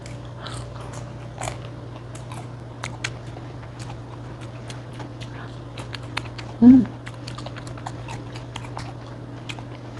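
Vegan restaurant food in Jeju, including a chipotle burger, bracken pasta and open sandwich, is bitten and chewed close to the mic in a quiet setting, with soft intermittent crunches and mouth sounds and one louder bump.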